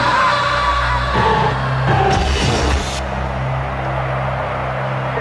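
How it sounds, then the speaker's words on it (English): A crowd of people running through city streets yelling and whooping loudly in a Mortal Kombat trailer, with a dense roar of shouts, a burst of bangs midway and an engine-like rumble underneath. "It's a bunch of people running around in the streets just screaming Mortal Kombat."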